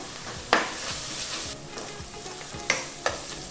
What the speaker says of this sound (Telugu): 1 టీ స్పూన్ అల్లం వెల్లుల్లి పేస్ట్ వేస్తున్నాను.